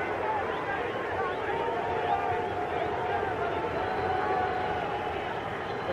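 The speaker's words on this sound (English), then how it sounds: "The crowd here at Hampton Coliseum starting to chant, Pete, Pete, Pete." A boxing arena crowd at Hampton Coliseum chants "Pete" in a steady, massed roar that stays dense and even from start to finish, with no quiet gaps.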